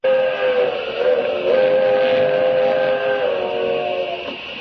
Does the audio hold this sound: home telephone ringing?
no